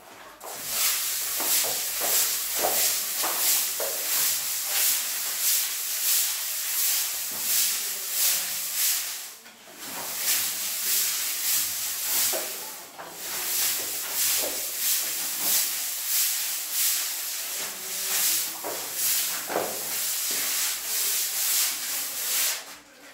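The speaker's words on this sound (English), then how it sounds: "I'm gonna rub it for a couple of minutes." Fresh plaster is rubbed over a brick wall, producing a loud, continuous, rhythmic scratchy hiss in long sweeping strokes that pause briefly twice, with no talking.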